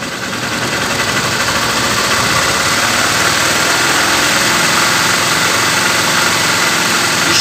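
A Honda CG 150 Titan motorcycle engine runs steadily and loudly close by during a battery charging test, a constant buzzing drone with a slight rise in pitch as it is held at higher revs.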